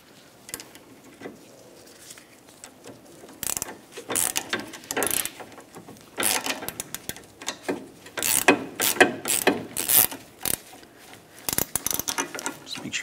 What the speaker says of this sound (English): we'll continue tightening this using a 17 millimeter to tighten the nut